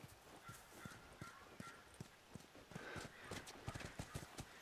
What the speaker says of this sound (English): Horse. There's horse.